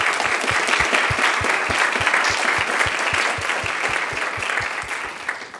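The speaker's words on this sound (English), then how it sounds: "this summer another round of applause," An audience at an internship showcase applauds the summer interns, a full burst of clapping with a steady rhythmic beat running underneath that thins out toward the end.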